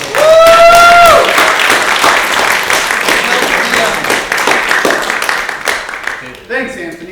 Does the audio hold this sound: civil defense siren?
no